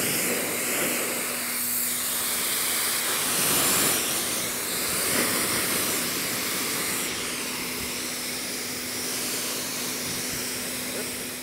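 Pressure-washer water spray rinsing down a Tesla Cybertruck during a pre-wrap cleaning, a steady broad hiss that carries throughout at close range with faint voices underneath.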